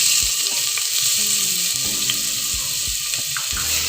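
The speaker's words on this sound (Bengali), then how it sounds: "পেঁয়াজ কুচিটাকে একটু ভেজে নিব," Chopped onion frying in oil, a steady broad sizzle running throughout with scattered soft clinks and scrapes of a utensil against the pan, no talking.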